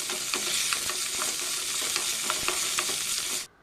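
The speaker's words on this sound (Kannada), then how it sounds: "ಈಗ ಅರ್ಧ ಈರುಳ್ಳಿ ಮತ್ತು ಒಂದು ಹಸಿಮೆಣಸನ್ನು ಹಾಕ್ತೀನಿ. ಸ್ವಲ್ಪ ಫ್ರೈ ಮಾಡೋಣ." Half an onion and a green chilli fry in a pan with a bright, continuous sizzle and scraping stirs, ending abruptly near the close.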